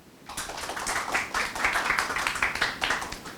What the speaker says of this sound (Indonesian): dan kita tepuk tangan dulu dong.